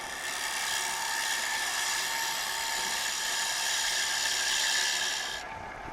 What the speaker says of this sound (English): So now I'm going to start taking some very light cuts.